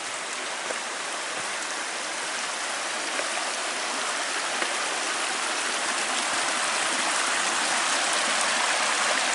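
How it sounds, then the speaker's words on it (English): Small runoff stream flowing down beside the Comet Falls Trail at Mount Rainier, a steady close rushing and splashing of water that holds evenly throughout, with no voices. "there's a little stream that's flowing down by the side of this"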